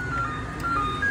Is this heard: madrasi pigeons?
no